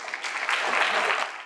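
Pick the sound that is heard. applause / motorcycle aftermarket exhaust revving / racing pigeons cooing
applause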